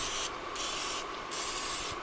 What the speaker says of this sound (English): So I'm just going to generously spray,